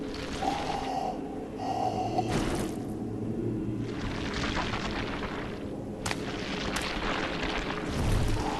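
In the Bloodborne video game, Molotov cocktails burst with a couple of sharp, booming whooshes during a boss fight against a rumbling background, with no talking.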